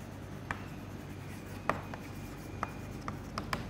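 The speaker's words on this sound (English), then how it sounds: "So let's write that down." Chalk or marker strokes tapping and scraping on a board while equations are written during a numerical methods lecture, several short separate marks over a quiet room hum.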